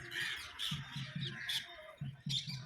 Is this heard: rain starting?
no